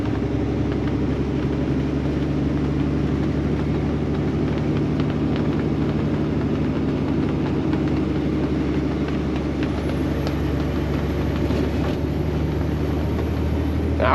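A Peterbilt truck engine drones steadily while driving, upshifting a couple of times with only subtle changes in its constant low rumble and hum.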